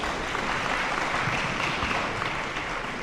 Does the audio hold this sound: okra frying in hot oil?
no